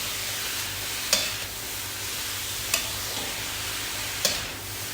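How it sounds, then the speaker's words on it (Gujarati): Carrots frying in ghee in a large kadai for carrot halva give a steady soft sizzle, with three brief scraping stirs of a spoon spaced evenly across the pan. "એકાદ મિનિટ માટે સાંતરીશું જેથી કરીને ઘી એકદમ સરસ રીતે બધી રીતે ફેલાઈ જાય અને ગાજર જે છે એ સરસ શેકાઈ જાય"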